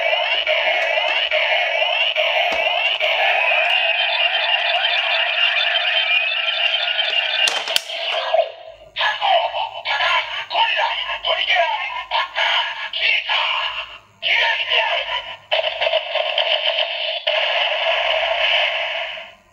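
A Kamen Rider OOO DX Tajaspiner toy scans medals, producing bright electronic tones and a sung voice announcement, loud and close, followed by a choppy burst of toy audio.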